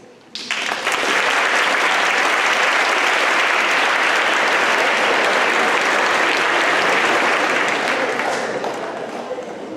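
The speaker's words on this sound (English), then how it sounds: "Now please, let's give them all an applause." A large audience at a Model United Nations opening ceremony in Bilbao breaks into loud, dense applause that starts abruptly, holds steady for several seconds, then slowly eases.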